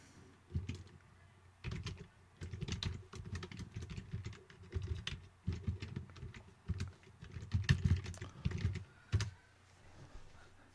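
Typing on a computer keyboard comes in uneven bursts of close, crisp key clicks and clacks separated by brief pauses, with no voices.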